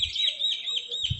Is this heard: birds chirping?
yes